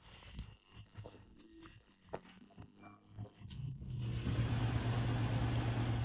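A Jeep Cherokee XJ engine idles steadily with a low hum, running on fuel from the tank, starting faint under scattered clicks and knocks and becoming a louder, even drone.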